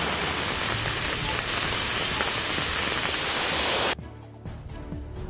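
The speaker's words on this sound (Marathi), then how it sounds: "अकोल्यात मुसळधार पाऊस" Heavy monsoon downpour in Akola pours as a dense, loud, continuous roar of rain on surfaces that cuts off abruptly near the end, leaving scattered drips and patter.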